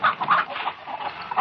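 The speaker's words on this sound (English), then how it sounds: "I'm just going to feed the chickens" Chickens in a farmyard give a short run of quick, nasal clucks at close range, several bursts in under two seconds, in a 1955 film scene.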